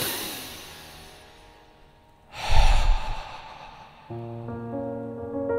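A single deep, breathy exhale, close and fairly loud, rising and fading over about a second. It follows a quiet stretch and is followed by soft sustained music tones.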